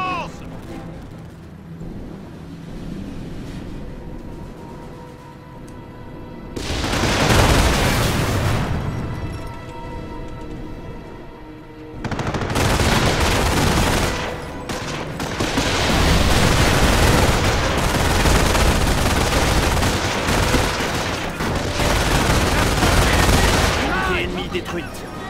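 Bursts of machine gun and rifle fire rattle through a Company of Heroes battle, with heavy volleys separated by quieter stretches and sustained firing through the second half.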